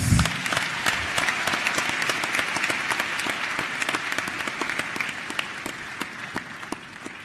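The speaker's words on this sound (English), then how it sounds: "give him another thunderous round of applause" A large summit crowd gives a minister a thunderous round of applause, dense sustained clapping with sharp individual claps standing out, fading gradually toward the end.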